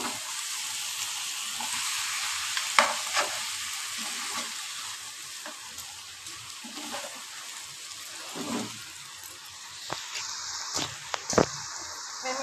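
Katla fish head and potato curry fries in a pan with a soft sizzle, broken by scraping stirs and clinks of a utensil against the pan.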